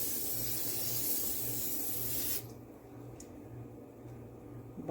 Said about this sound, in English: butter non-stick spray